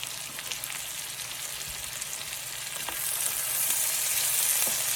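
Chopped small yellow onion with peppers sizzling in a hot pan for a bayou chicken and pasta dish, a steady close crackle that swells louder partway through, with no talking.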